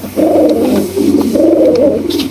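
Pigeons at a pigeon farm, including Gola and Gorra breeds, coo in low, throaty rolling phrases, close and loud, repeating in two or three bursts with no talking.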